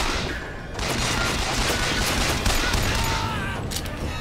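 Rapid gunfire from the video game Bioshock Infinite crackles in dense, overlapping bursts, loud and continuous throughout with booming impacts layered in.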